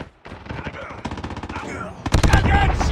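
Gunfire in the video game Call of Duty Mobile: fast rattling automatic bursts, growing louder and denser toward the end, with close heavy shots over faint background voices.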